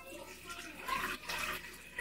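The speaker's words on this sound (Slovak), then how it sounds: "Dám si tam vodu." Water pours from a tap or jug into a high-speed blender jar, a steady hissing, splashing stream lasting about two seconds, close and moderately loud, with no talk over it.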